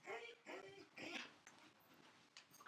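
A dog whimpers and yips in short, high whines close by, overlapping with a voice talking.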